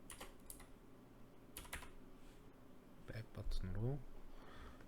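Quick taps on a computer keyboard sound close and soft while a voice speaks over the last part.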